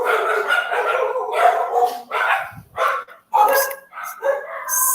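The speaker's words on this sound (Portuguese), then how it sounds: "São só os meus cachorros que ficaram assustados" Several dogs bark in quick, overlapping bursts, loud and close, with a few higher yips mixed in and short pauses between volleys.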